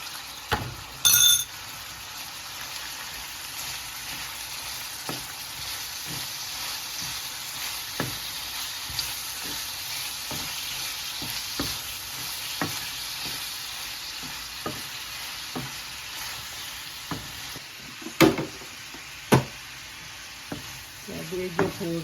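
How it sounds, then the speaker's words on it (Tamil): Chicken and cabbage fry for fried rice with a steady close sizzle, while a utensil stirs and scrapes through the pan and a few sharp metallic clinks ring out. "சிக்கன் பொரிஞ்சு கொண்டு வருது."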